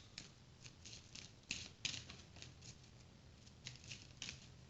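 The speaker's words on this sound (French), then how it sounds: "on remélange les deux paquets, le paquet de cartes risquées" Two decks of playing cards are riffled and shuffled together, giving quiet, papery rustles with a few sharper crackling bursts over about five seconds and no talk.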